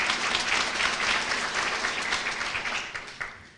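Luncheon guests applaud an award nominee at a college awards event, a full room of steady clapping that fades toward the end with a few last isolated claps.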